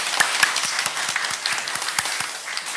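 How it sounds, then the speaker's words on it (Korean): A church congregation applauds in a worship service, dense sustained clapping from many hands filling the room, loud and even throughout with no speech over it. "또 하나님의 영광의 박수 올리도록 하겠습니다"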